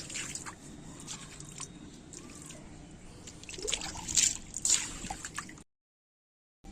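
Water poured from a bucket onto a rooftop garden to clean the roof and wash soil from the base of plant tubs, a steady soft splashing trickle that swells louder near the end before stopping abruptly.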